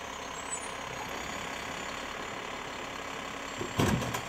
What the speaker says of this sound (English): The new trucks are quite a bit nicer compared to the old trucks.